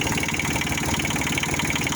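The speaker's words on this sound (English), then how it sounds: "that little banging you're hearing, it's the muffler's got this guard on here" Small engine on a roller idling steadily up close, with a fast rhythmic banging from a loose guard rattling on the muffler, running continuously.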